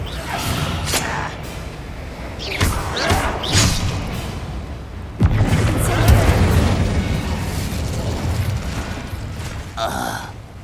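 A Descendo spell slams down in Hogwarts Legacy, landing as a loud, heavy thud with a rumbling crash amid ongoing combat noise, followed by more thumps and brief voice sounds.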